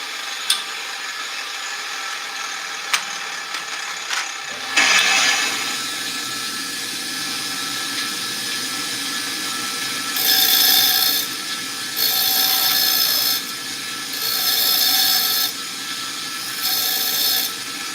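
Metal is ground on a bench grinder: after a few light taps a steady whining hum sets in, then four bursts of harsh, bright grinding rise and fall as the piece is pressed against the wheel, close and alone.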